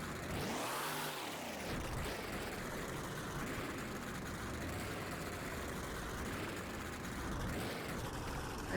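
The Gingerbread Dragon Monster Jam truck's engine roars and revs in an arena at a Christmas special event, a loud, sustained drone with rising surges and no one speaking over it.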